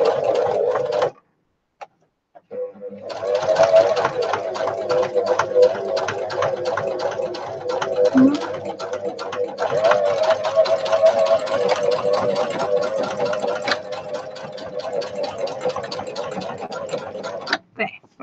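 A sewing machine stitches fabric for a handmade pocket book, running in a steady, rapid mechanical chatter after a short pause near the start, then stopping at the end.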